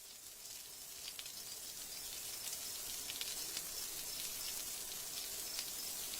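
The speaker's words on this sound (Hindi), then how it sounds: "ठंड की पहली बारिश है, सुबह तक खत्म हो जाएगी।" Steady, soft hiss of rain falling in a cartoon scene on the first cold night of winter, with faint scattered drop ticks throughout and no talk.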